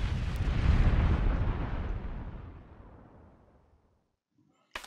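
A bomb blows up a cake in the video game Kick the Buddy: one loud, deep explosion booms and rumbles, then fades over a few seconds before a short click.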